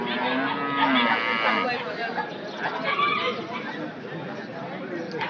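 Cattle moo loudly and close at a busy livestock market, with drawn-out lowing calls at the start and again midway, while people chatter in the background.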